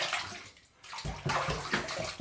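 Water runs from a tap as a razor is rinsed during a wet shave, a steady close splashing that breaks off briefly and then returns louder.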